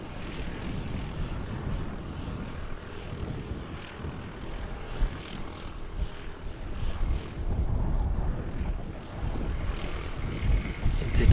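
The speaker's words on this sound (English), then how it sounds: "Inbound ATR from Wellington." Broadband engine roar of an ATR turboprop airliner arriving at Christchurch Airport from Wellington, a steady loud drone through the whole stretch with gusty wind buffeting the microphone and faint talk underneath.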